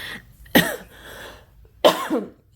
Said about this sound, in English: yeah, I had a cough there.